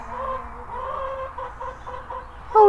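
Brahma and Leghorn cross hens cluck softly and close by in a short series of low murmured calls, ending with a sharper, louder cluck.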